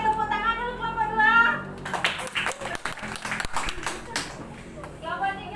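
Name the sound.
class clapping for group 2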